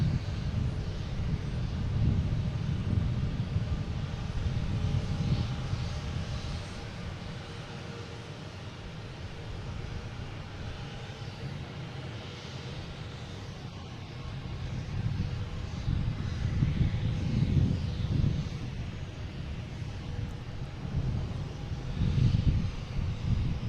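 An Air Canada airliner arriving from Toronto lands on runway 27 at Boston Logan, a continuous broad engine roar and rumble that swells and eases over more than twenty seconds, heard from a distance with wind noise.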